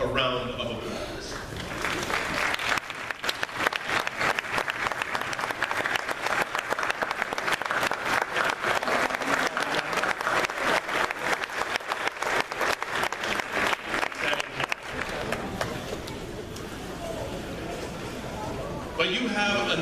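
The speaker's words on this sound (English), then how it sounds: "Will the family members and loved ones of our graduates please stand so that we can give you all a round of applause." Sustained, dense applause from a large crowd at a 2016 community college graduation ceremony, honoring graduates' families and loved ones; it swells after a short lead-in, holds steady for about twelve seconds, then fades as a speaker resumes.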